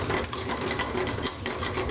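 Shrimp cook in a hot pan, giving a dense, continuous close-up sizzle with faint scraping and stirring texture and no pauses.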